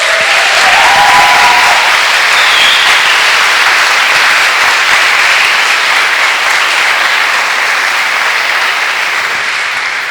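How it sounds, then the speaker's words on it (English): A large audience at a closing ceremony for an engineering competition bursts into loud, sustained applause, dense clapping filling the space evenly and fading only slightly toward the end. "please again appreciate them with a huge applause"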